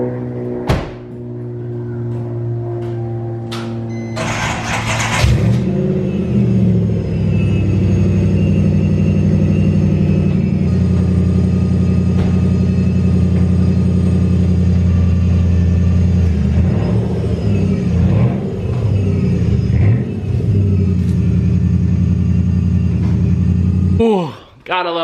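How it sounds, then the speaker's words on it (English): A Lexus SC300/SC400 cold starts with a whine and bark, then holds a loud, rumbling high idle with several revs rising and falling over about twenty seconds as someone talks nearby. "Let's get a cold start."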